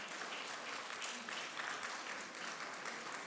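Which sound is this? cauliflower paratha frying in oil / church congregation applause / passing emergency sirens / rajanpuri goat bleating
church congregation applause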